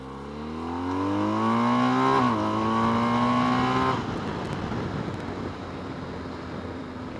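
A BMW R1250GS motorcycle engine pulls hard through the revs, its pitch climbing steadily for about four seconds before easing into a steady cruise with rushing wind, close and loud with no talk.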